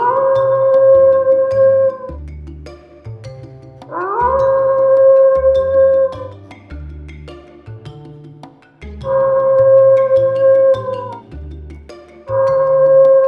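Fox howls played back from a tape recorder hidden in bushes outside a house at night: loud, drawn-out wailing calls that repeat in long swells every few seconds over a low, pulsing background.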